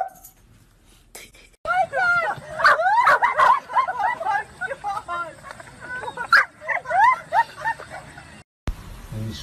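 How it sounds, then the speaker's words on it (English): Dog yips and barks in a quick, excited series at close range, mixed with whimpering, while a person talks over it. "Oh, you want to bark at my ear?"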